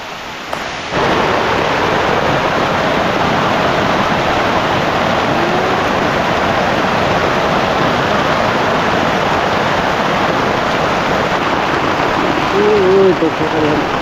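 Heavy rain pours down steadily as a loud, dense, continuous wash of noise that starts abruptly after a moment of quiet and keeps up without a break.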